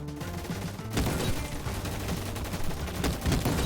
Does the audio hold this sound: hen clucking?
no